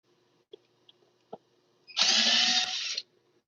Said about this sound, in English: let me get the drill over here so I can take these out